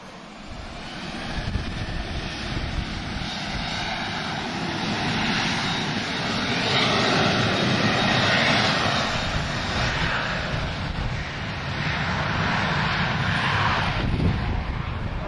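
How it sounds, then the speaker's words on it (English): A Ryanair Boeing 737-800 jet departs Lisbon Airport with a steady, swelling engine roar that builds toward the middle and holds loud to the end, with no talk. "Ryanair 737-800 off to Lodges"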